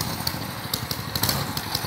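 A mini bike fitted with a 6.5 horsepower Predator 212 small engine runs at a steady idle, giving off a continuous low chugging rumble at close range with no talk over it.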